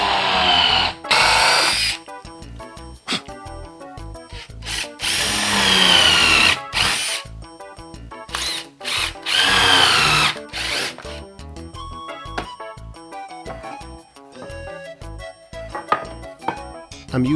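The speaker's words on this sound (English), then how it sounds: "you can see how the countersinking bit really drills down deep into the wood" Power drill with a countersinking bit boring into wood for a cornhole board, loud whining bursts starting and stopping repeatedly, with brief pauses and lighter clicks and knocks between runs.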